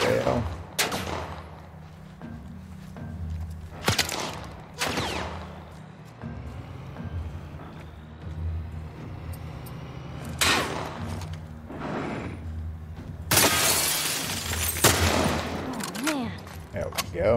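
Gunfire and a headshot in The Last of Us Part 1, at a Pittsburgh military area: several loud, sharp shots with booming low-end thumps, spaced irregularly over a steady game ambience, with a dense burst of blasts near the end.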